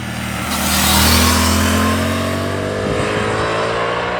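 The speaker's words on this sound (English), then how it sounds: "So obviously this motorcycle is a little bit quiet" A 2024 Suzuki GSX-8R motorcycle with its quiet stock exhaust revs up close by, swelling to a peak before settling into a steady, loud engine drone with no talk.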